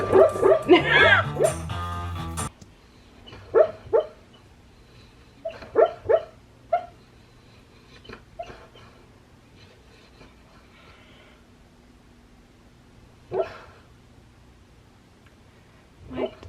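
A sleeping dog whimpers and lets out soft muffled woofs while dreaming, scattered short yips and whines across a quiet room after a brief burst of other sound at the start.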